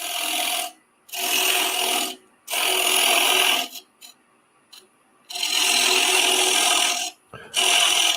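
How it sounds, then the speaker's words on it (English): A wood lathe spins a secured workpiece while a scraping tip cuts into the wood, producing loud raspy bursts of scraping separated by short quiet pauses, close and without speech. "Turn the speed up. Got a little scraping tip here."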